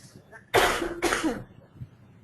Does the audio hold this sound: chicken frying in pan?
no